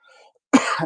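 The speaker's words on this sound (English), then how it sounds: "I apologize for my voice and if I cough a little bit" A single sharp, close cough bursts out after a brief faint sound, loud and raspy, ending quickly.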